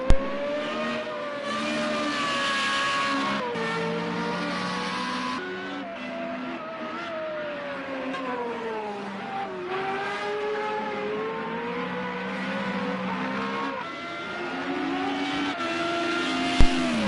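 Formula Renault race car engine heard on board in Project Cars at Dubai Autodrome, a loud, continuous high-revving whine that rises and falls through gear changes across the lap, with brief tire squeal near the end.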